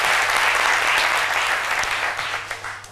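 Studio audience applause fills a French daytime TV show set, a steady dense wash of clapping that holds loud and even for about three seconds before tapering slightly at the end.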